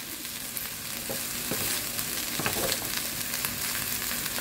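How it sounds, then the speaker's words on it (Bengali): Potato slices frying in a pan for aloo bhaja: a steady close sizzle with scraping stirs of a spatula running throughout, no voices. "এই আলু ভাজাটাকে আগে শেষ করি"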